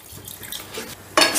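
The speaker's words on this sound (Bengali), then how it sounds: "এবারে দিয়ে দিচ্ছি গ্রেভির জন্য জল" Water poured into a pot to make gravy for a Bengali soybean and puffed-rice ghonto, a soft trickle that swells into a louder, bright splashing gush near the end, no talk.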